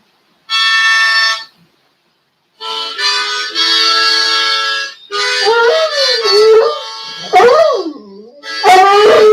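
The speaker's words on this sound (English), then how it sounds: "He's a good singing dog." A dog howls loud and close in long wavering notes that rise and fall, in several drawn-out bursts separated by short pauses, with no talk.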